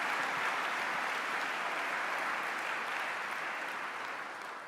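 Sustained audience applause at a university address, dense even clapping filling the space at steady volume before easing slightly at the end.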